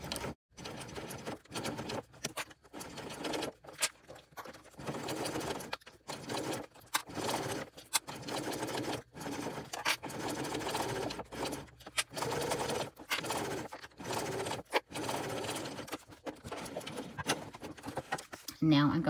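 Sewing machine stitching down the folded side of a tote bag strap, a close, quiet, rapid mechanical chatter running in short stop-start bursts throughout.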